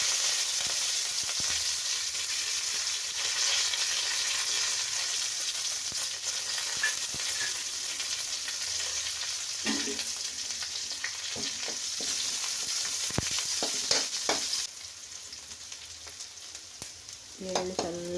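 Garlic, onion and curry leaves fry in a pan for a bitter gourd gojju, giving a steady bright sizzle with intermittent stirring scrapes and clinks, close and unbroken for about eighteen seconds.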